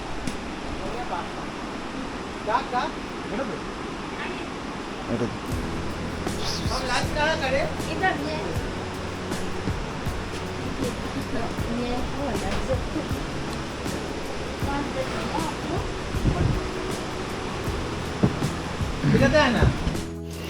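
A river rushes steadily beside an outdoor eating spot on a mountain road in Sikkim, a continuous broad roar under frequent nearby talk.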